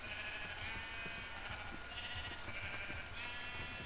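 Repeated Minecraft sheep bleats with a synthetic, game-like quality, fairly faint over a steady background hum, recurring in quick succession.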